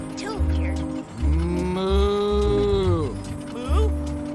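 A dairy fairy character in a Fairly OddParents video game gives a voiced imitation of a cow's moo, with drawn-out lowing calls in two or three phrases, clear and close.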